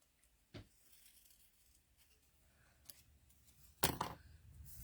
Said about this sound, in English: And again, I am cutting.